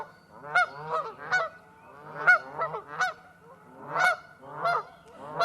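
Geese in metro Detroit honk repeatedly and fairly near, in irregular bursts of nasal calls separated by short pauses, with nothing else competing.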